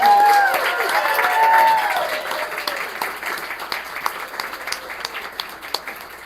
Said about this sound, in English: Let's have a round of applause for all the readers.